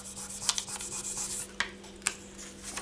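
A burnishing tool rubs back and forth over paper laid on a metal oak-leaf pendant, a soft scratchy rasp in short strokes with a few sharper scrapes, close and quiet.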